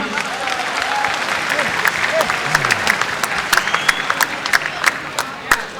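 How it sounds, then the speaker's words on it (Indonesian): A boxing arena crowd applauds after a championship belt presentation, with sharp individual claps standing out over a broad crowd roar, voices calling in the hall. "Kita beri tepuk tangan sekali lagi."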